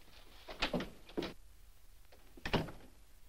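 An office door opens and later closes as a visitor enters, giving two pairs of soft knocks and thuds at moderate distance, in a quiet room from a 1950 film.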